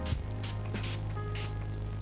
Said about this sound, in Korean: 이거 한번 뿌릴게요. 어반디케이 세팅 스프레이.